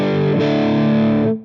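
An electric guitar played through a distortion effect on a Headrush MX5, one sustained saturated chord ringing loud and steady for over a second before cutting off.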